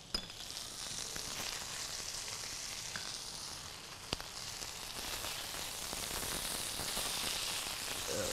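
Chicken frying in a pan for a vegetable and chicken dish with Chinese sauce, a steady close sizzle and crackle that runs without a break, with a brief sharp click partway through.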